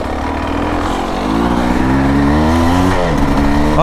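Enduro dirt bike fitted with a high compression head, its engine running close and loud, a buzzing two-stroke note that climbs in pitch as it revs up and holds there, with no talk.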